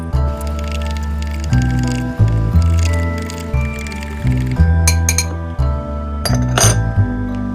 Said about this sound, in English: and whisk with a fork.